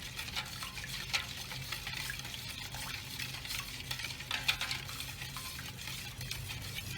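A spoon gently stirs a wet mixture for Armenian choreg bread dough in a bowl, giving soft, quiet, continuous swishing and sloshing with faint irregular scrapes.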